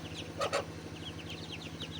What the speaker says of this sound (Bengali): আমার এখানে মোট বিশটি হাঁসের বাচ্চা রয়েছে